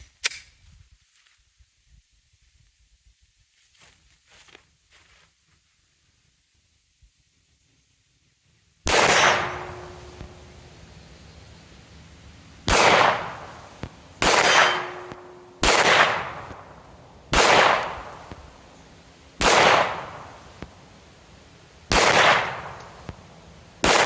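Pistol fitted with a red dot sight firing 115 grain rounds, a string of loud sharp single shots at irregular intervals after a quiet stretch of handling noises, close by.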